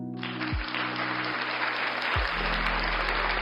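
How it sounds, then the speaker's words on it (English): A steady wash of canned applause plays in a dating-game livestream, starting abruptly and holding at an even level under low electronic tones that drop in pitch twice. "Guys, a round of applause."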